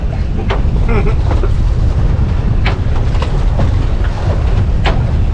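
Strong northeast wind buffets a boat just off Egmont in Tampa Bay in rough conditions, a loud, continuous roar of wind noise on the microphone with sharp gusts and bumps throughout, no voices.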